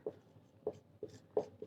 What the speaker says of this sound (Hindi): यहाँ लिखेंगे हल में क्या लिखेंगे